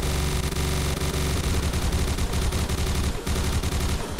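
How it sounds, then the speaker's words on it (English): Sustained rapid gunfire in the VR shooter CyberThreat, with dense overlapping bursts of automatic shots rattling loudly and continuously, plus a brief dip near the end. "You're shooting at me, you're shooting."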